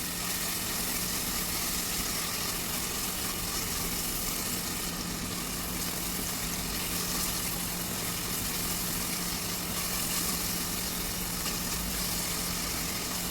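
Fresh coriander and vegetables fry together in a pan, a constant dense sizzle of hot oil running unbroken and fairly loud throughout, with no voices.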